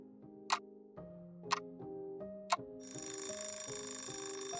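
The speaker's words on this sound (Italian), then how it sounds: "la sveglia è quella analogica, che ticchetta forte." An analog alarm clock ticks loudly, sharp single ticks about a second apart that stand out over soft, steady background music.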